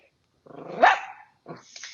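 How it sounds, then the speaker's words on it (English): A dog barks twice, one sharp bark with a growling edge and then a shorter, rougher one, heard close and alone during a stage play. "isn't that just the most annoying dog you've ever heard?"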